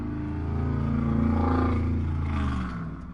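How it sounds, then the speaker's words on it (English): A loud car passes by outside, a deep roaring engine rumble that swells and fades over about three seconds, heard alone and fairly close. "freaking people outside driving loud ass cars or whatever"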